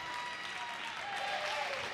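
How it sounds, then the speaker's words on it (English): Spectators at a college wrestling dual meet, Northern Colorado at Utah Valley, clap and cheer in a steady wash of arena applause heard from a distance, with no single voice standing out. "Fans here cheering on."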